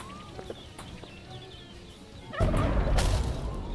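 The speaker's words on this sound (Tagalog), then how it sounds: "May chicken." Chickens gobble and cluck in short bursts, faint at first, then a louder, busier stretch of squawking and scuffling erupts partway through, close and lively.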